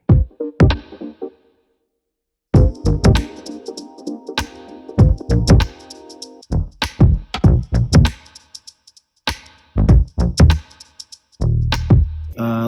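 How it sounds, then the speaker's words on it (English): A punchy synth bass line, played on a keyboard through the Retrograde plugin by Teletone Audio, plays a bouncy, stop-start groove with short plucked notes and brief gaps, joined by drum hits, loud and upfront. "I played the bass on the keyboard using a plugin called Retrograde by Teletone"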